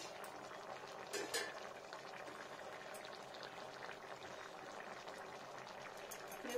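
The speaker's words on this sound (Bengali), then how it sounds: "দেখুন ফ্রেন্ডস কত সুন্দর ফুটছে, আর ফুটতে ফুটতে এটা রান্নাটা কমপ্লিট হয়ে যাবে।" Spinach curry boiling in a pot makes a soft, continuous bubbling simmer, with a brief utensil clink near the start; quiet, close and without talk.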